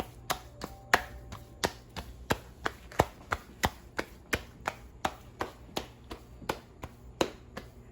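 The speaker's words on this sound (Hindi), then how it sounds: "उसकी अब हम रोटी बना रहे हैं।" Maize flour roti dough being patted flat between the hands, a steady run of sharp close slaps at a regular brisk rhythm, about two or three per second, with no talking.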